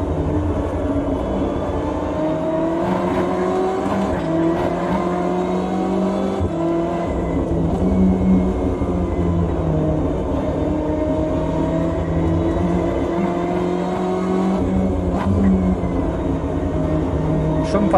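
In a video game, a BMW M8 GTE race car laps the Nordschleife during an endurance race, its engine droning steadily with rising and falling revs under a voice.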